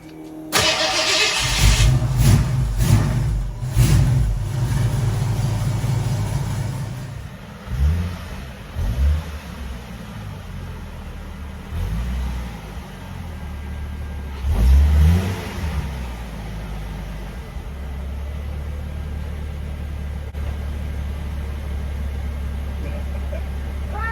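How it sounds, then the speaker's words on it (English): A modified Mustang and a Nissan 370Z Nismo being moved in a garage: a loud engine start and revving at first, then lower rumbling passes as a car rolls and repositions, then a steady idle, with some talk. "We're going to get modified Mustang out of here and bring in the Nismo."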